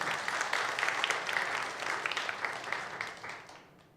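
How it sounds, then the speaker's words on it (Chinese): A church congregation applauds prize winners at a Sunday service, with dense, sustained clapping from many hands that fades out toward the end. "好，我们拍手恭喜他们。"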